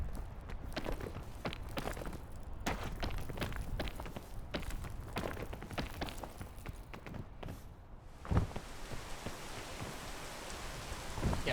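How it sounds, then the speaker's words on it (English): Rain in the tropics area of the climbing video game PEAK, a dense steady patter with scattered footstep-like taps and a brief thump near the end, heard alone without talk. "the rain makes it more slippery, so you won't be able to climb up as quickly."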